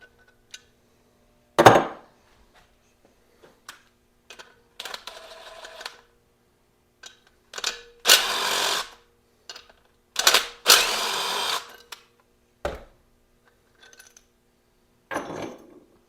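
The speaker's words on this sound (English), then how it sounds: "I use the ratchet. back this thing off." Ratchet work on an LT4 engine head while backing off valve spring hardware: scattered short metallic clicks and clacks, with a few louder bursts of rapid ratcheting, close by and with no talk.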